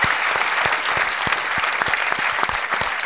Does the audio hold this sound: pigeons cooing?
no